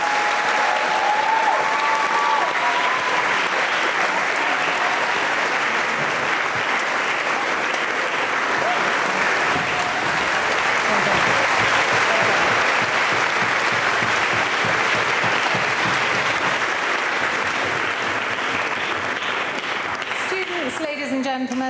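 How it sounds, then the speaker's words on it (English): Loud, sustained audience applause filling a hall at the close of a summer school debate event, a thick continuous clatter of many hands that barely varies over twenty seconds, with a few scattered voices underneath. "so if you'd like to give them a round of applause as well"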